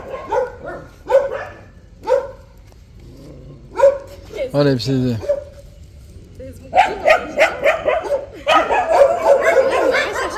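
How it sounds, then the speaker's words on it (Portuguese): Dogs barking and yipping on a walk while meeting a German Shepherd puppy, several short barks and a whimper scattered through, with someone talking over them. "Encontrando com outros cães."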